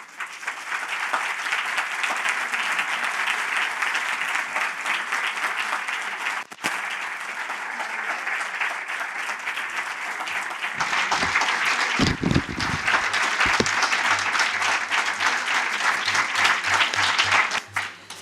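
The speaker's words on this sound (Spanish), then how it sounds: "es uno de los aplausos más largos y sonoros que hemos vivido en este ciclo de conferencias" Long, loud applause from a lecture audience at the close of a talk on women artists through history, a dense steady clapping that runs unbroken for the whole stretch and swells slightly toward the end.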